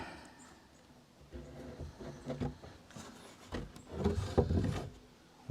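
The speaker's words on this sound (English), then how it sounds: "Let's go see if it fits in the door opening." Custom-built wooden door being set into the door opening of a tiny house, with soft wooden scrapes, rubs and a few dull knocks, nearby and moderately quiet.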